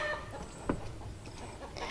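Chickens cluck nearby in an outdoor riverside garden setting, a few soft clucks and one sharper call over quiet background ambience.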